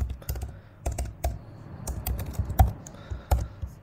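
Python code typed on a computer keyboard, a quick irregular run of close, crisp key clicks with short pauses between bursts, and no talking over it.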